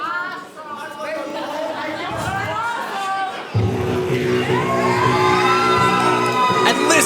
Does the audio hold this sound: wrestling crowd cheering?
yes